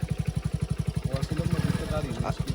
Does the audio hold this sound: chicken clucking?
no